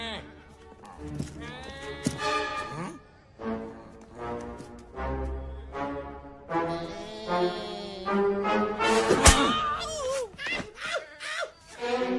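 Several voices imitate goats bleating in a Hindi-dubbed animated film, with wavering nasal cries that overlap and repeat loudly across the clip, mixed with vocal grunts and shouts.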